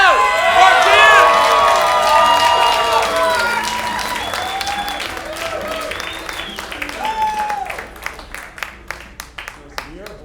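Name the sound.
audience applause for a comedian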